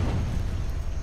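Explosion in the artillery game Worms Reloaded as a shot strikes the ground: a dense, low rumbling blast that stays loud and sustained across about a second.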